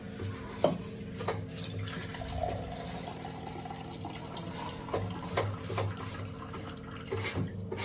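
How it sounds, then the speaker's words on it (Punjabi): Water from a tap trickles softly and steadily into dhokla batter, a faint, continuous running sound with a few drips in a quiet kitchen, with no talking. "ਹੋਰ ਪਾਣੀ ਦਈਏ ਤੁਹਾਨੂੰ"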